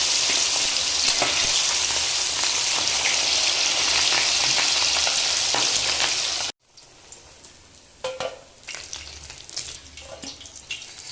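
Pieces of rohu fish fry in hot oil for a hotel-style fish curry, making a loud, dense sizzle with crackling spatter. Partway through it cuts abruptly to a quieter, sparser crackle with occasional pops.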